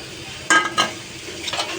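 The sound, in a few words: dried fish (shutki) added to a frying pan, sizzling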